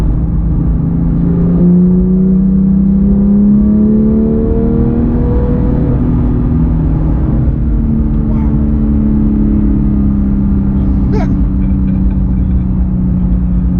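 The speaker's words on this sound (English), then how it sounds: "as long as you shift quickly, it's gonna automatically rev match for you" A 2018 Porsche 911 GT3 with a manual gearbox runs on the road, its engine note rising and falling through shifts, including a quick rev blip on a downshift, heard from inside the cabin beneath ongoing conversation.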